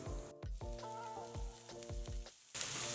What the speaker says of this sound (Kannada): ಎಣ್ಣೆ ಚೆನ್ನಾಗಿ ಕಾಯಿಲಿ ಜೀರಿಗೆ ಹಾಕ್ಕೊಳ್ಳೋಣ ಈರುಳ್ಳಿ